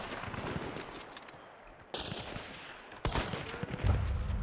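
Enemy gunfire in a video game crackles in fairly faint, scattered bursts of shots, growing denser and louder in the last second and a half, with sharp individual cracks standing out over background game noise.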